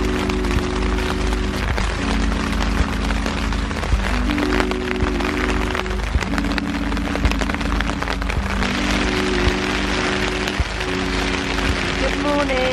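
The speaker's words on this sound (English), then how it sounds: "I don't know if you can actually hear me because it's so rainy." Steady, heavy rain pours across an outdoor music festival in Bilbao, a dense close hiss and patter running throughout, with a sustained musical hum beneath it and a voice speaking over the downpour.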